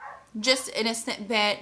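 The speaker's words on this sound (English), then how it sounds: "sorry about my dog barking" A dog barks close by, several sharp, loud barks and yips in quick succession over a short stretch, with a brief snatch of speech at the very start.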